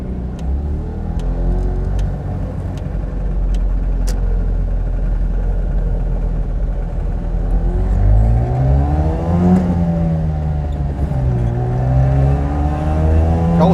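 A 1974 Daihatsu Fellow Max kei car with a two-stroke engine, buzzing loudly from inside as it accelerates, revs rising through the gears with a pitch dip at each shift, no talking.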